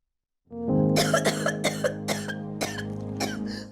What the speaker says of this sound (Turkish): Dinmeyen öksürük, tekrarlanan nefes darlığı